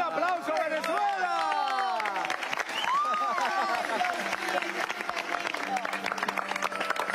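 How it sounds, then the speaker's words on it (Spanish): A television morning-show studio audience applauds loudly and continuously, with cheering voices and a presenter talking over the clapping. "¡un aplauso, Venezuela!"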